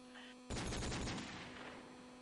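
A sudden loud volley of gunshots bursts out in a first-person shooter match, a quick rattling flurry that fades into a lingering hum with faint background voices.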